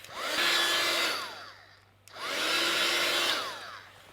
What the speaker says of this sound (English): Now I'm going to take my heat gun and dry it off.